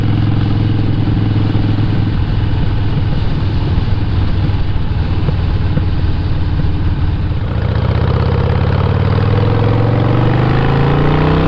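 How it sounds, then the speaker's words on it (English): A motorcycle engine idles loudly nearby with a throbbing, clattering rumble, then its pitch climbs smoothly as the engine revs up toward the end. "I got my motorcycle."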